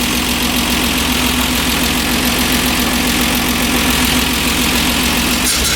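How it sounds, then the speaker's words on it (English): A 1968 MGC engine with SU HS6 carburettors idles steadily and close, a loud continuous rumble with an even low pulse throughout, no voices. "So sometimes you have to give it a little throttle just to make sure that they're running at their proper idle."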